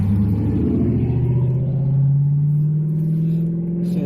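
Police cars at a roadside stop, a close, loud engine idling with a low steady rumble that rises slightly in pitch as a vehicle pulls in and settles.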